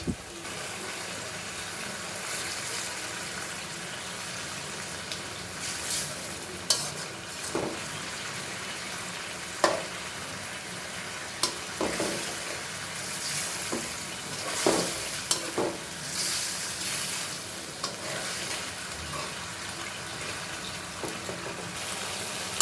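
Small hilsa fish frying in masala in a pan, a steady low sizzle with intermittent spatula scrapes and clinks, heard close with no voices.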